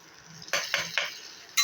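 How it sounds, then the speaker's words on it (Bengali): A metal spatula scraping and knocking in a pan as tempering goes in: three quick clinking strokes, then a louder clatter, close and without speech. "ফোড়নটা আমি এই খুন্তিটা করে এনে দিয়ে দিলাম"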